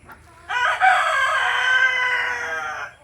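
A farm rooster lets out one long, loud, close crow that rises and holds for over two seconds before cutting off, with quiet surroundings before and after.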